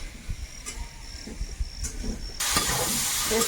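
Vegetables sautéing in oil in a pan for a Bengali home meal, a soft stirring sizzle that jumps to a louder, steady hiss partway through, close up with no talking.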